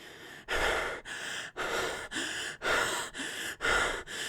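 Heavy, laboured breathing in a Naruto fan story, a steady series of about eight loud, close breaths with regular rhythm and brief pauses between each inhale and exhale, with no talk.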